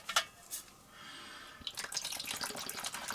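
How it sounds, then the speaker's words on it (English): Water poured from a tap into a bowl, a few drips and splashes first, then a steady soft trickling fill, close and quiet with no talk. "Looks like I need a little bit more water in that"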